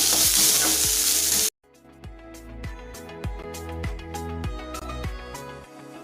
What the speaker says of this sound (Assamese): এইখিনি মই ভালকৈ ভাজি ল'ম।